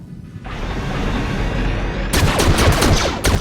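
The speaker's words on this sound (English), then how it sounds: "So they are firing." Blaster gunfire in the Star Wars The Old Republic game during a space battle, a rumbling whoosh building into a dense rapid volley of loud energy shots, with no talk.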